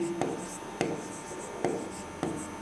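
A pen writes a short note in the margin of a paper during a Hindi grammar lesson, giving four quick scratchy strokes at an even pace, close and quiet over a faint room background.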